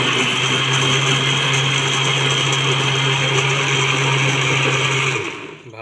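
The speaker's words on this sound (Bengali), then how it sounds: "মিক্সারে মিক্স করে দেব।" An electric blender runs steadily, mixing eggs with thickened, reduced milk for a pressure-cooker caramel pudding, a loud continuous whir that holds for about five seconds and then cuts off abruptly.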